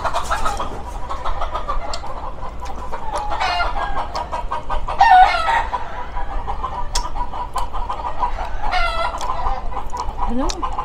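Chickens clucking and a rooster crowing in a Filipino home setting, several birds calling in irregular bursts, with one louder crow midway, over faint background murmur and some distant voices.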